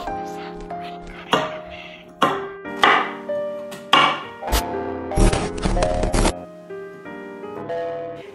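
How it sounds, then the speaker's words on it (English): A knife cuts through a carrot on a board in a series of distinct chops, some sharp and close, ending in a brief burst of rapid clatter before trailing off. "here we have a carrot. So carrots are pretty easy to cut"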